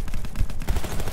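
Gunfire from a weapon in Battlefield 1, a few quick close shots with heavy low booms in a short burst.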